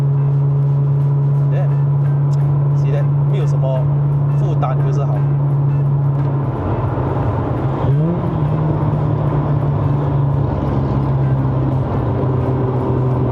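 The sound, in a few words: Mazda RX-8 6MT driving at about 110 km/h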